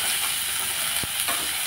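Tomatoes hit a hot frying pan and set off a close, steady sizzle, with a single soft knock or stir partway through. No one speaks.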